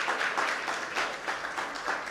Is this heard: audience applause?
yes